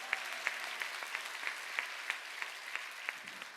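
A church congregation at Sunday worship claps hands in a steady, regular rhythm, about three claps per second, crisp sharp hits with a murmur of the crowd beneath.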